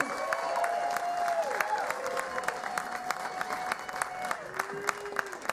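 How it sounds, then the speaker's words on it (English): A Hollywood Laugh Factory comedy club crowd applauds steadily, with scattered whistles and cheers rising over the continuous clapping. "Please start clapping for my buddy."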